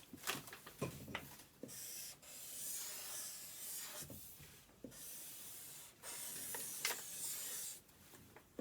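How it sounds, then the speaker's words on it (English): A chisel-tip Sharpie marker scratches across paper in several rasping strokes while drawing a large letter S, each stroke a close, soft hiss separated by brief pauses. "I'm going to use my Sharpie marker here with the chisel top."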